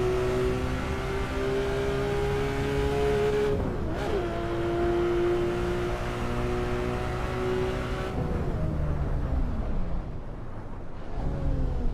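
In Assetto Corsa, a race car engine howls at a sustained high pitch, dipping sharply with gear shifts around a third of the way in and again later, then climbing back up; loud, close and uninterrupted by voices.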